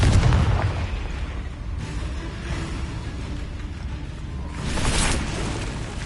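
Fiery spell blast of Confringo in Hogwarts Legacy: a loud booming burst at the start, a rumbling lull, then a second sharp hiss-and-crackle burst near the end, with no talking.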